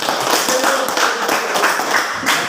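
A classroom group applauding group 3, a dense, steady wash of many hands clapping close by for a couple of seconds, with no talking.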